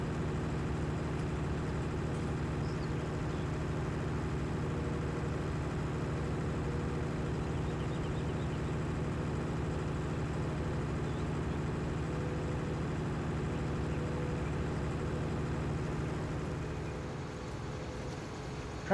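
A tractor engine in a farming simulator idles with a steady, low, droning rumble that holds unchanged for nearly twenty seconds before easing slightly at the end.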